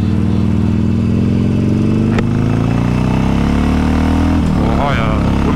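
A Kawasaki motorcycle with a swapped exhaust revs up close and loud, its engine note climbing steadily before a sharp blip and settling, with voices mixed in.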